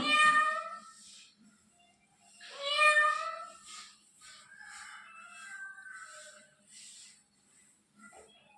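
A cat meows several times, loud and close, with quieter mewing sounds in between and a brief low thump near the end.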